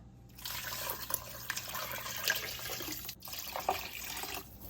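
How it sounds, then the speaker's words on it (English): Water pours steadily into a soup pot of lentil soup seasoned with soy sauce and Italian herbs, a continuous close splashing stream that briefly pauses before resuming. "Add 6 cups of water."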